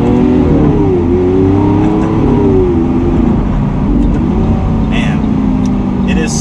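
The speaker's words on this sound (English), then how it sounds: "Just doing a little bit of acceleration now." A 2016 Lamborghini Aventador SV accelerating, its loud engine rising steadily in pitch through a sustained pull, heard from inside the car with someone talking over it.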